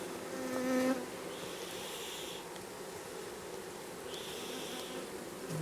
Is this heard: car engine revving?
no